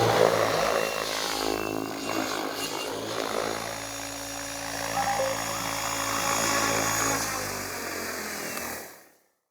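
An RC helicopter flies training maneuvers outdoors, its rotor and motor giving a continuous buzzing whine that swells and eases slightly before cutting off abruptly at the end.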